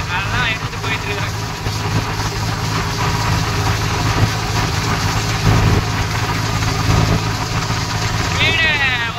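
A Swaraj 963 FE tractor with a Lemken 18-blade mulcher runs nearby, its engine drone steady and loud throughout while someone talks over it.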